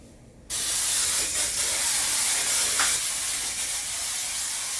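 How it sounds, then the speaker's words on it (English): A close, continuous hiss of hairspray misted onto curly hair, starting abruptly and holding for several seconds with slight variations, no talking. "then spray it with more hairspray."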